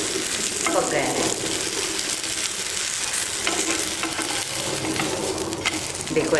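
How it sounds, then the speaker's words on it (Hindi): Rice flour uttapam cooks on a hot pan with a loud, continuous sizzle and crackle from start to finish. There is no talking over it. "आवाज आ रही है, इससे हमें मालूम पड़ रहा है हमारा उत्तप्पा एकदम अंदर से पक गया है।"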